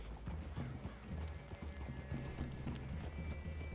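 Horse hooves clip-clop in an uneven walking rhythm on hard ground in Red Dead Redemption 2, near and steady, with faint ambient noise around them.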